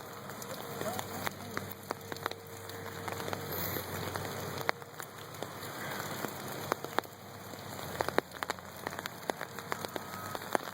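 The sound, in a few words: rain falling by a river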